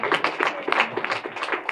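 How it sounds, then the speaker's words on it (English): Audience applause for Secretary Hargett at a Tennessee student mock election event, a brief burst of scattered hand claps from a modest crowd, fairly close and brisk. "So a round of applause for Secretary Hargett."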